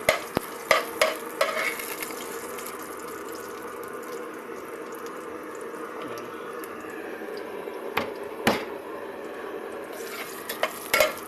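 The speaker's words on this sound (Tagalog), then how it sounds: "kailangan natin igisa yung bawang" Garlic sautéing in a heated kaldero, a continuous soft sizzle of oil running the whole time, punctuated by occasional sharp clacks of a utensil stirring against the pot, with no talking.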